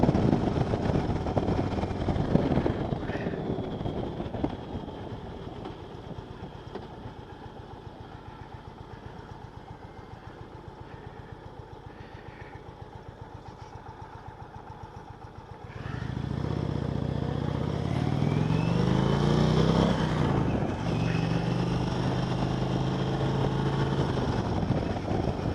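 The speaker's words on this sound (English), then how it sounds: "Roll on the throttle to get out of the way." A 2020 Indian Chieftain Elite motorcycle engine idles steadily, then roars louder as the throttle is rolled on and it accelerates up through the revs, running alone without talk.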